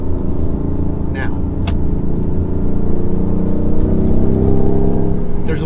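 A BMW i8 with a modified exhaust in sport mode accelerates with a deep, continuous engine rumble that slowly builds, heard from inside the car.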